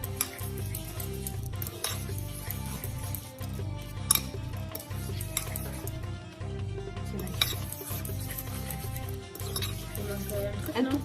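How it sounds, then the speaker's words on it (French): A Moroccan fish tajine is stirred in a pot with a utensil, a steady, rhythmic scraping and light clinking repeated about once a second at moderate, close range. "vous remuez, vous touillez"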